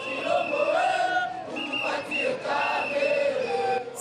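Angry protest crowd filling the main street of Bukavu, many voices shouting and chanting together in a loud, continuous roar with rising cries, close and sustained throughout.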